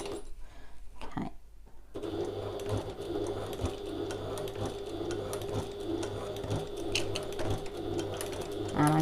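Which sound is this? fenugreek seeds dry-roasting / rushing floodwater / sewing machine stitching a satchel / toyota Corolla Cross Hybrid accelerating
sewing machine stitching a satchel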